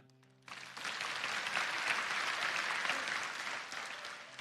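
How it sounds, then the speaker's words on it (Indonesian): Church congregation bursting into applause after a brief quieter moment, a dense, steady wash of many hands clapping that holds loud and even for several seconds. "Yang gini silakan tepuk tangan Tuhan."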